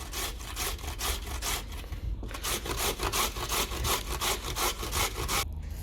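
Vegetables being grated for a spicy BBQ chicken burger, a steady rhythmic rasping with regular back-and-forth strokes, close and continuous with only brief pauses.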